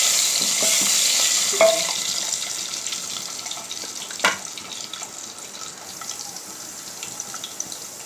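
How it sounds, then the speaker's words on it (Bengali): Steady broadband hiss of eggs frying in hot oil in a pot, crackling throughout, with a brief louder sizzle burst partway through before settling to a continuous sputter. "একটু লাল লাল করে ভেজে নেবো বন্ধুরা"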